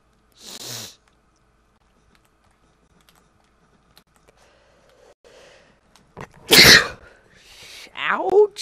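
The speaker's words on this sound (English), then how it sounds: "There was a sneeze." A single sharp sneeze bursts out near the end, loud and close, after a long quiet stretch of soft keyboard typing and a faint breathy noise at the start, followed by a short vocal exclamation.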